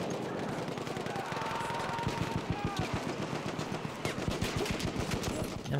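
Rapid bolt-action Vetterli infantry rifle shots fired from the hip in Battlefield 1, a dense run of sharp cracks and blasts with overlapping distant battlefield gunfire, loud and continuous.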